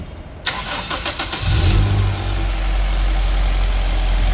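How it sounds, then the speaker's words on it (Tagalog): A car engine, fresh from a Ravenol oil change, cranks briefly and catches, then settles into a steady, smooth idle, heard close up with no talking. "sa pag-start pa lang, magaan agad yung tunog ng engine"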